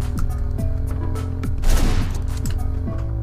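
Gunshots from a gun in the top-down video game Hotline Miami crack in a rapid volley over a pulsing electronic soundtrack, with repeated short bursts and a denser, louder flurry midway.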